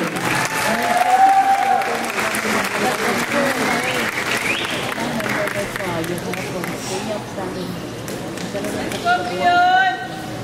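A large crowd applauds at a college commencement ceremony, steady loud clapping throughout with cheering and a babble of voices mixed in.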